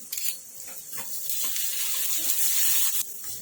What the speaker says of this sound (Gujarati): ગોલ્ડન બ્રાઉન થાય ત્યાં સુધી આપણે શેકા આવીશું ડુંગળીને